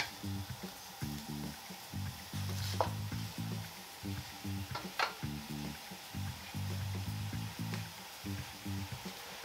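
Deveined jumbo shrimp sizzle in a pan as they are flipped, a soft, fairly quiet frying hiss broken by scraping and clattering bursts from turning them, with no talking.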